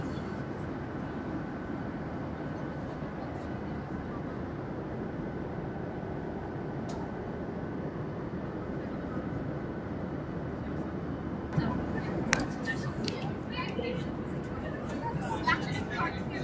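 Steady broadband drone of an airplane cabin in flight, a continuous low roar filling the whole stretch, with people chatting under it and a few brief clicks and rattles near the end.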